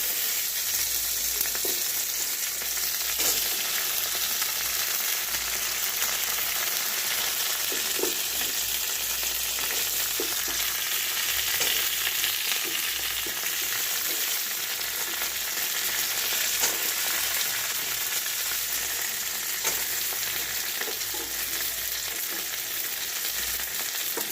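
A curry of okra and sweet pumpkin frying in a pan hisses with a steady, even sizzle throughout, with occasional soft stirring scrapes and small pops, continuous and close.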